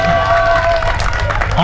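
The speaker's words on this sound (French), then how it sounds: "On applaudit" Applause and crowd noise at the kickoff of a gala football match played in memory of family members, a dense steady wash of clapping and cheering from a large crowd for the whole moment.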